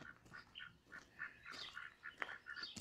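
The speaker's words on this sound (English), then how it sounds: "I think the Pekings are the funniest ducks to watch." Pekin ducks quack in soft, repeated bursts as they waddle about a homestead, several overlapping calls at moderate distance, fairly quiet and irregular in rhythm.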